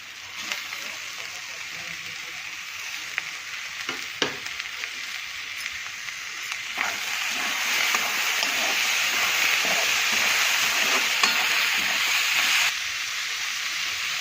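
Onion and tomato sizzle in hot oil in a pan for a drumstick curry. A steady, fairly loud frying hiss grows stronger partway through, with a few light clicks and stirring knocks.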